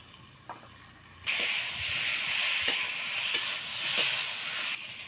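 Dried river fish hit hot oil in a pan with a sudden loud hiss, then sizzle and fry steadily at close range, with a few light stirring clicks.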